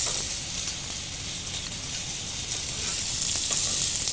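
Chicken hisses and crackles as it fries in a hot pan, a constant close sizzle with occasional stirring clicks, fairly loud and uninterrupted by voices.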